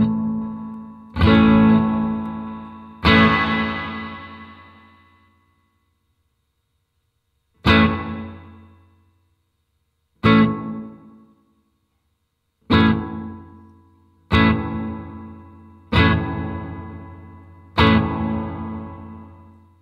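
Electric guitar chords strummed one at a time through a Yamaha THR amp with spring reverb, each ringing out with a splashy, lingering reverb tail before silence.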